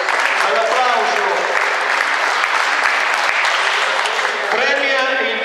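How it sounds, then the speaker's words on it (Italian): At a youth tournament award ceremony, a crowd gives referees sustained, dense applause that stays loud and even from start to finish. "All'applauso."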